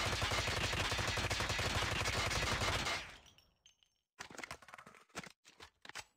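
Sustained automatic fire from a Holger 26 converted to an SMG in a video game, a loud dense burst for about three seconds that cuts off, followed by a pause and then scattered clicks and handling noises.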